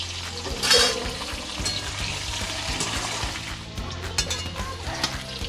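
Potatoes fry in a pan with salt and turmeric, a steady sizzle broken by stirring scrapes and a sharp clink of utensil near the start.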